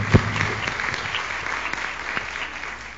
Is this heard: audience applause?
yes